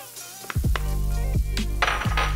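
Onions and garlic go into melted butter in a pan for a lobster and mushroom risotto, bringing a rising sizzle with clanks of utensils against the pan, close and loud, with no talk.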